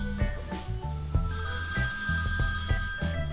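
A telephone rings with repeated electronic trill bursts over a low, busy music-like background, fairly close and steady throughout.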